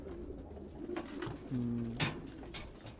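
Pigeons from a Syrian-bred racing flock coo in a short close-up stretch, with a clear two-note coo in the middle over a soft background murmur of other birds.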